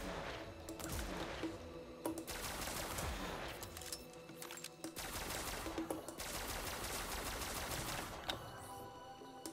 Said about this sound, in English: Because it sounds like it's a shotgun